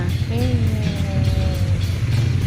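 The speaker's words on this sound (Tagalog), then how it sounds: "Natatakot sa mga tunog ng mga sasakyan" Steady low rumble of nearby traffic, with a vehicle engine droning continuously and a faint tonal whine over it.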